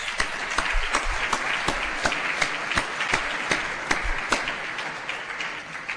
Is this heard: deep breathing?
no